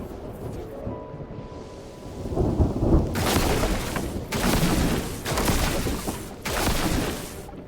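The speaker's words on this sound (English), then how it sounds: "why are my finials taking lightning?" Thunder from lightning strikes in the video game Mind Over Magic crashes in loud, broad bursts over steady rain, several heavy rumbling cracks arriving one after another without any talk.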